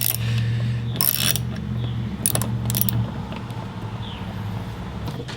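A quarter-inch ratchet with a T20 bit turns long Torx bolts on a 2018 Ford F-150, giving bursts of rapid clicking close by over a low steady hum.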